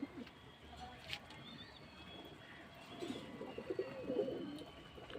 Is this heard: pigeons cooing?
yes